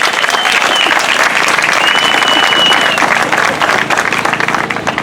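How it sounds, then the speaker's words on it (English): Steady, loud applause from a crowd at a memorial event in Greenfield, California, dense clapping that holds throughout and tapers slightly at the end. "show a round of applause for the Hood Squad and the SOS for supporting us today"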